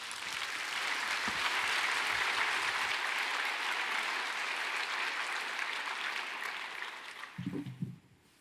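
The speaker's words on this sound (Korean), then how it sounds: "큰 박수로 환영해 주시기 바랍니다" A church congregation gives warm applause to welcome a woman coming up to share her testimony: broad, even clapping from many people that holds steady, then fades away, with a brief voice at the end.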